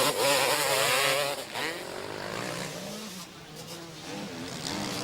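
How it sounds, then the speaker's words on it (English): Kawasaki 250cc two-stroke motocross bikes racing at a 2003 MXGP Grand Prix round in Gorna Rositza, Bulgaria, with close, loud engines rising and falling in pitch as they rev and pass. "Here is the Motor X Kawasaki of McFarlane trying to prove otherwise."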